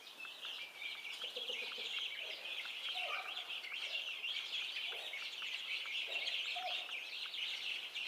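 Soft, continuous chirping and peeping with occasional low clucks from a guinea hen murmuring brooding calls like those made to newly hatched chicks, steady and fairly close.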